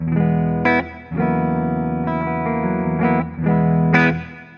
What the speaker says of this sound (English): So I'm going through a spanking clean tone.